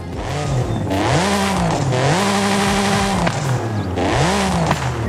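A Brabus 800 with a swapped 6.9 V12 engine in Forza Horizon 5 revs loudly and repeatedly, pitch climbing and falling in three rising sweeps over a steady engine drone, close and continuous with no talking.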